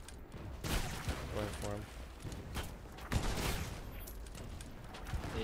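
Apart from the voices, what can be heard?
cannon and gunfire in the video game Blazing Sails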